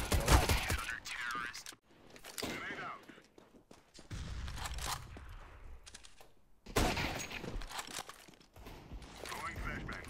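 Rapid bursts of video game gunfire crackle loudly and close in short volleys, with brief pauses between clusters, alongside footsteps and mechanical clicks, with voices at times over the shooting.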